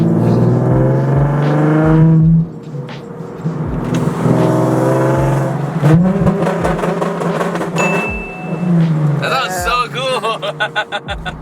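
Nissan 370Z with the Sport package's synchro rev-match blipping the engine during shifts, short sharp revs rising and falling between gears, close and loud, with a person talking over much of it.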